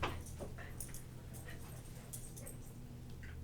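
A puppy whimpers to be let out, its faint, thin yips and whines broken up and repeated against a quiet indoor room tone.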